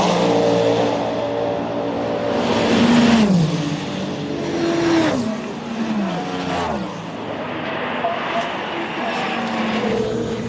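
A Ferrari race car at the 24 Hours of Le Mans roars past, its engine pitch swelling and falling as cars pass in turn, loud against a steady trackside rumble.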